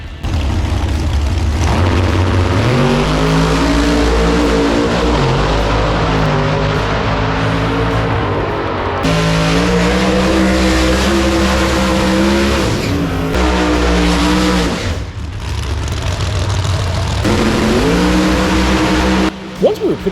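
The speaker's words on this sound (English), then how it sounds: "I was pretty excited to get to see the Tin Soldiers Charlie Brown car race." Race cars roar at a Tin Soldiers Charlie Brown car race, their engines loud and close, revving up and down in repeated rising and falling passes over about twenty seconds, with brief dips between runs.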